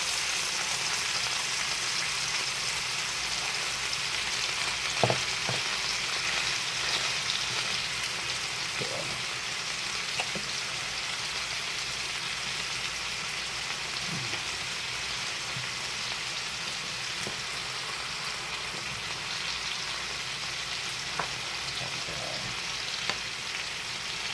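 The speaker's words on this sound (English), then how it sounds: "I'm going to take a half stick of butter, put it right into the pan and let that start melting." Half a stick of butter melting in a hot stovetop pan before a steak is cooked, giving a steady, even sizzle and crackle that carries on with only faint scattered pops.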